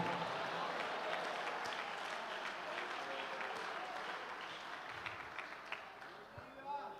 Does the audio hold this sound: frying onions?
no